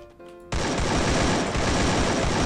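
Automatic gunfire erupts in a video game with an AK rifle, a loud, dense, continuous burst of rapid shots starting abruptly after a short, quieter lead-in.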